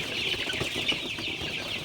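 Chickens cluck and rustle continuously inside a poultry shed where heat-stressed Sonali birds are kept, a steady close flock chatter with no talking.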